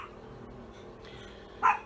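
A single short dog bark, a female dog sounding off indoors, quiet and slightly distant near the end after a stretch of low room noise.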